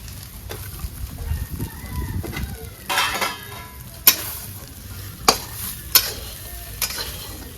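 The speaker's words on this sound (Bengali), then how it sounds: "এখন পেঁপে ভেজে নেব একটু হালকা।" Papaya pieces fry lightly in a pan for a papaya and soybean curry, a low steady sizzle broken by several sharp clinks of a spatula against the pan.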